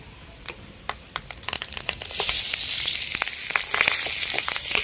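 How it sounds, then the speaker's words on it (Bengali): Five-spice seeds, two bay leaves and four green chillies frying in a little oil for a Bengali fish curry, starting with scattered pops and crackles before swelling into a loud, continuous sizzle with sharp spits. "দিয়ে দিব 5 ফোড়ন আর 2টো তেজপাতা, আর দিয়ে দেবো 4টা কাঁচা লঙ্কা।"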